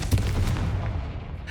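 A spell explosion in Hogwarts Legacy booms with a cluster of rapid crackling blasts at the start, then a rumbling tail that fades over about a second.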